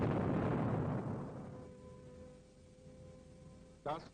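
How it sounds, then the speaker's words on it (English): A wartime explosion in a documentary about the German superweapon program, one deep booming blast that rumbles and slowly fades, followed by a brief crackling burst at the end. "But soon Germany was to be racked by another explosion."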